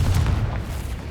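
A Confringo explosion spell bursts in Hogwarts Legacy as a single deep, booming blast that fades quickly.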